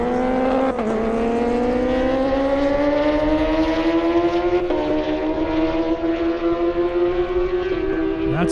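A Kawasaki Ninja H2 motorcycle speeds down an airstrip at the 2023 Indy Airstrip Attack, its loud engine whine climbing steadily in pitch through the gears over several seconds with no break.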